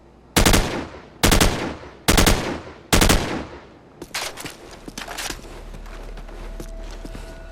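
Assault rifle fired in Call of Duty 4 in four loud, evenly spaced short bursts, followed by quieter scattered clicks, clatter and mechanical handling sounds.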